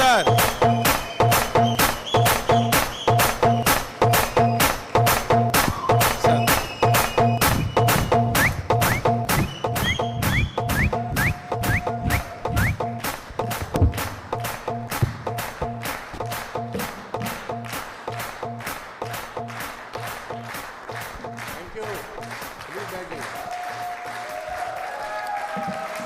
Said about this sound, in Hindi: सीटियां, तालियां जोरदार सोनू सर के लिए होनी चाहिए सर।